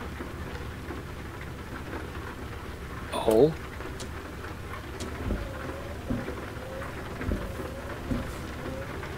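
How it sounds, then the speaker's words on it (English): Rain in the driving game American Truck Simulator makes a steady, moderate patter on the truck, with a few brief louder bumps. Someone talks briefly over it. "Oh, now it's raining again."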